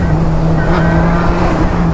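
A Honda Hornet motorcycle engine drones loud and close with a steady held tone, wind rushing over the microphone as it runs.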